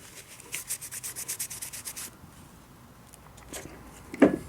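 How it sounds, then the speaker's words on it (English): Rapid, rhythmic scratchy strokes of sandpaper rubbing on corroded metal from a Honda Accord combination switch, about a dozen back-and-forth passes, then a pause, a few scrapes and a sharp clunk. "I'm putting quite a bit of effort into sanding this to get it clean"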